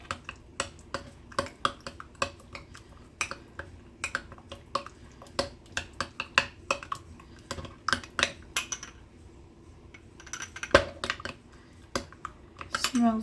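Irregular clinks and scrapes of a utensil against a pot as a chili-oil sauce is mixed, a quick uneven clatter of close metallic taps throughout.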